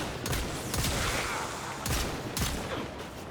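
Rapid pistol gunfire rings out in the sci-fi shooter Warframe, several sharp reports in quick succession over a dense, constant wash of game noise.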